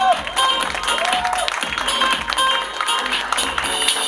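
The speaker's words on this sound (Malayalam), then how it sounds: "ഒരു കൈയടി കൊടുക്കാം." Audience applause at a Malayalam movie pooja and title launch event for the Biju Menon film Avarachan & Sons: steady, dense clapping fills the whole stretch, with a faint voice and tonal sounds underneath.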